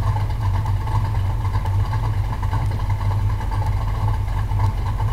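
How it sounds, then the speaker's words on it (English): A video game car engine idles with a steady, throaty rumble, loud and constant throughout with no change in pitch. "Do you hear the engine voice?"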